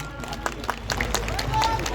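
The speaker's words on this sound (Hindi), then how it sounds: "सभी साथी कृपया खड़े होकर करके स्वागत करें। जोरदार तालियों के साथ" A crowd at a Bharatiya Janata Party rally applauds to welcome speakers, a steady wash of clapping and crowd noise under a loud voice on a public address system.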